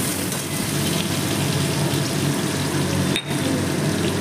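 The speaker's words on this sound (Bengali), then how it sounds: "পটলগুলোও ভেজে নেব" Pointed gourd (potol) fries in hot oil in a pan for a fish-head chhechra dish, giving a loud, continuous sizzling hiss with one brief dip near the end.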